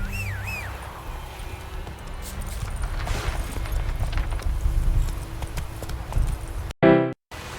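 Horse hooves clip-clop at a steady walking rhythm in The Witcher 3: Wild Hunt, a close, even series of hoofbeats with a short harsh burst just before the end.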